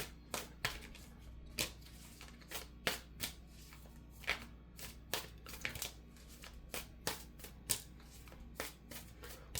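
Tarot cards are shuffled by hand in a steady run of crisp riffling snaps, close and clear, with no talking.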